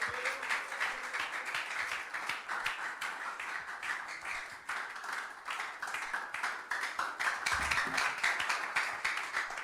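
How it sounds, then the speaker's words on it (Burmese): A church congregation at a Myanmar service claps in welcome, a quiet but dense, continuous patter of many hands from start to finish. "လက်ခုပ်တီးပြီးကြိုဆိုကြရအောင်"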